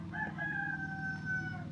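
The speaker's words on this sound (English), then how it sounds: "You heard it. There's a chicken coop there." Rooster crowing beside a chicken coop in a nearly abandoned small Nebraska town, one drawn-out call heard at moderate distance over a steady low rumble.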